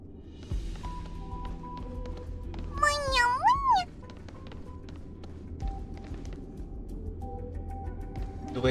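A cat in the Honkai Star Rail video game gives one clear, rising meow over quiet game background sounds.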